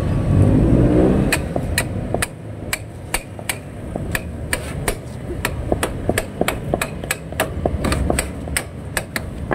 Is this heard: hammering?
yes